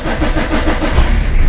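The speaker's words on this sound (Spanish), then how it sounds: "Y ahora supuestamente el coche arrancará." Car engine cranking and catching after being jump-started with a Topdon JS3000 jump starter, a loud, steady close-up churning rumble.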